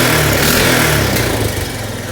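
A Honda ATV engine with a freshly welded, repaired exhaust revs steadily up close, a loud, continuous buzzing drone that holds high and then eases slightly as it drops back.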